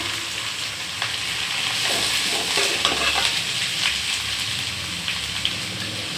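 Finely chopped small shallot onions fry in a pan and are stirred, giving a steady bright sizzle with scraping and crackling from the stirring throughout.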